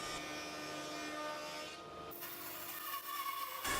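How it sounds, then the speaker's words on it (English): A thicknesser planing the top off timber for a table setting, giving a steady high whirring, rasping cut that changes tone midway and ends abruptly, heard fairly quietly with no talk. "putting it through the thicknesser. Just scraping the top off."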